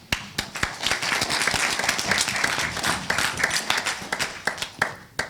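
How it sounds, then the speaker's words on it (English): A conference audience applauds a farmers' food systems panel: dense, steady clapping from many hands that holds for several seconds, with a few sharper individual claps standing out near the end. "round of applause for our panel"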